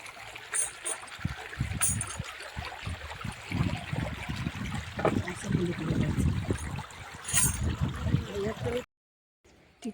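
Shallow stream water runs and trickles over stones, a close, uneven babbling with small splashes, continuing steadily before cutting off near the end.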